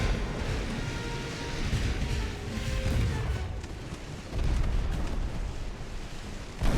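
Heavy naval guns from 1890-era warships fire in Ultimate Admiral: Dreadnoughts, a continuous roar of deep booms and rumbling blasts that rise again near the end.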